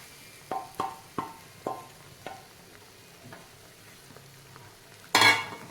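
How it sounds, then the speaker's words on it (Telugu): Spoon stirring a coconut laddu mixture with cardamom powder and sugar syrup in a pan over low flame, a few distinct scraping strokes early that fade into softer stirring, ending in a brief louder clatter. "మొత్తం ఒకసారి కలిపేసుకుందాం లో ఫ్లేమ్ మీదనే కలుపుకుందాం"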